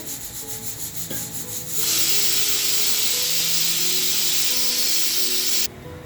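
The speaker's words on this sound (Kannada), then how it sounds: "ನೋಡಿ ಕುದಿ ಬರುವಾಗ ಒಂದು ಸ್ವಲ್ಪ ರಾಗಿ ಹಿಟ್ಟನ್ನು ಹಾಕೋಣ ನೋಡಿ ಚೆನ್ನಾಗಿ ಕುದೀತಾ ಇದೆಯಲ್ಲ" Water with a little ghee boils in a pan for ragi mudde, a loud, steady, close hiss and rushing bubble that swells in after a quieter start and drops off abruptly near the end.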